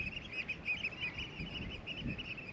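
Wild waterbirds call along the River Blyth, a steady chorus of chirps and honks carried over water and wind noise, moderately near and continuous throughout.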